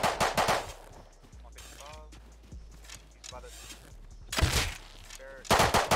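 Gunfire in the survival video game Rust: loud bursts of rapid shots open and close the stretch, with scattered single cracks and game noise between, while players talk over the action.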